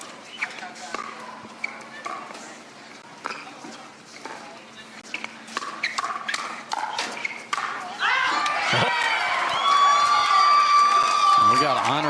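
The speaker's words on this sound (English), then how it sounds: "Jackie Kawamoto cheering her sister on here" Spectators cheering at a professional pickleball match; scattered paddle pops and court sounds with commentary give way to a loud burst of crowd cheering and applause near the end.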